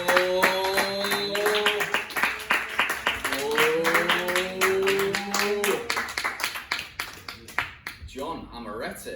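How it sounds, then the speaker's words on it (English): A comedy club audience in Manchester claps steadily while a host talks loudly over it on a microphone, and the applause thins into scattered claps near the end. "Keep your applause going, keep the intensity"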